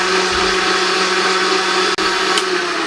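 A kitchen blender grinds Oreo cookies with milk and milk powder for a milkshake, a loud, steady motor whir running the whole time with one brief dip near the end.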